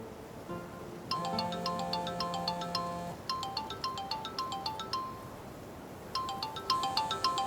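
A telephone's melodic electronic ringtone plays in repeated bright bursts with short pauses between phrases, clear and fairly close, with no one speaking over it.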